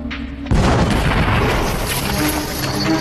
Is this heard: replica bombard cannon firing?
yes